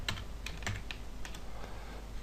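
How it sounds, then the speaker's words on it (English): Steady run of close computer keyboard typing, individual keystrokes clicking in an uneven, unhurried rhythm with no talk, recorded during a 3D modelling software session. "Yes, I am a slow typer."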